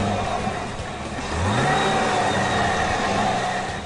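The 6.2-litre supercharged V8 of a 2011 Cadillac CTS-V Coupe revs up from a steady idle into a rising, sustained roar, heard loud and close with no talking.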